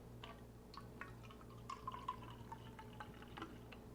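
Cider vinegar is poured in a thin, quiet trickle into sweet and sour sauce for meatballs, with soft dripping and splashing over a low steady hum.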